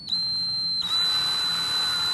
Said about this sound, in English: The final step is we're gonna drill a